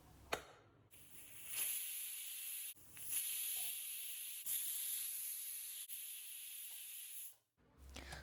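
Pressure cooker releasing steam after cooking vegetable biryani, a steady high hissing jet that cuts in and out in several long bursts, close and clear with no talk.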